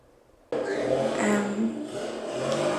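A motorcycle outside roars up suddenly and rumbles steadily nearby, heard through an uninsulated door, a loud engine drone with a rising whine toward the end.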